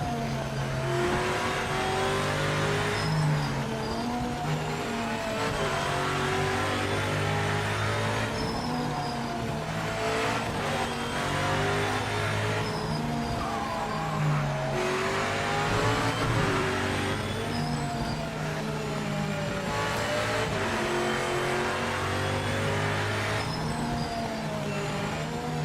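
A race car engine in the Project Motor Racing video game drones continuously, loud and close, with repeated rising and falling revs as gears shift, at times dipping as if the motor cuts out, no voices over it.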